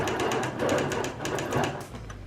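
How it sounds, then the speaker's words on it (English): A Bernina Q16 longarm quilting machine runs steadily when its foot pedal is pressed, its needle stitching up and down in a rapid, even, rhythmic mechanical patter close by with no talking. "when I press my foot down, the machine just starts moving up and down"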